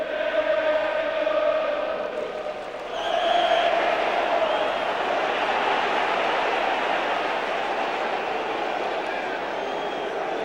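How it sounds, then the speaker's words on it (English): A large football crowd at Ayresome Park stadium gives a steady, dense roar that swells after a few seconds and holds on. It sounds broad and distant, with no clear voice standing out above it. "Ayresome Park has pulled in a cracking crowd"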